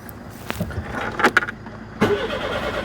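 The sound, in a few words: Citroen GSA engine cranking, trying to start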